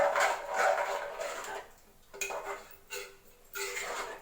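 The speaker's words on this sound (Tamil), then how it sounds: "நல்லா கிளறி விடுங்க." A utensil swirls and scrapes around inside a pot of watery vada curry kurma, with a few louder knocks against the metal and short pauses between strokes.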